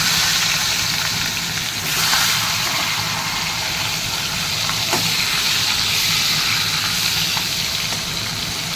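Fish heads fry in hot oil seasoned with salt, giving a steady, loud, close-up sizzle with a constant crackle that holds for the whole stretch, no voices.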